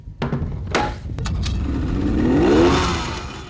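An old, roughly fifteen-year-old boat engine, stalled at sea, is cranked with effort after a few sharp knocks and clanks. It catches and revs up into a rising, loud mechanical roar close by.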